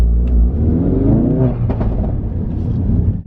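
Ford Focus RS with Mountune sports cat and MSD420 upgrade revving at standstill in a driveway, loud close engine rumble with rising revs and burbling crackles throughout, no talk.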